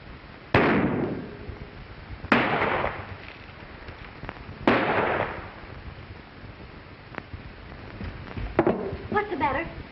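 Gunshots ring out in a 1933 western film, three loud, sharp reports spaced a couple of seconds apart, each with a decaying echo, followed by fainter pops and a voice near the end.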